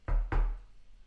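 Two quick knocks on wood, close and sharp, the second following about a quarter second after the first, then a short fading decay into quiet.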